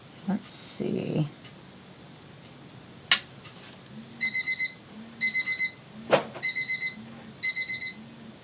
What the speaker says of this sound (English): That's just the alarm letting me know that the cable company is supposed to come.